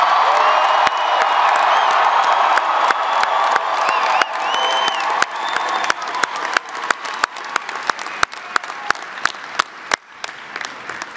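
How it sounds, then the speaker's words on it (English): Loud applause and cheering from the audience at a presidential inaugural ball honoring military families and troops serving in Afghanistan, dense at first and then thinning into scattered claps and whoops. "Can everybody please give our comrades in arms a huge round of applause?"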